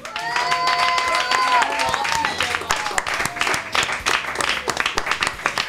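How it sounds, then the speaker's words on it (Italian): Audience applause at an Italian stage show, scattered clapping that thins out toward the end, heard under a voice speaking and some tonal sounds early on. "grazie per l'applauso"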